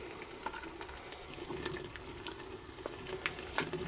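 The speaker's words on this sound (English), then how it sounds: "Let's stir this up." Malt extract is stirred into home-brew beer wort in a pot, giving a low, steady bubbling and sloshing with small scrapes and taps of the spoon, fairly quiet and close.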